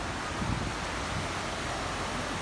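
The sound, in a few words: strong sea waves and wind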